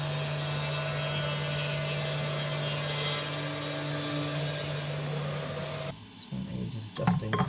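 A CNC machine re-levelling an MDF spoil board with dust extraction running, giving a steady loud hum and whine with a low drone that cuts off near the end, followed by brief clattering handling noises.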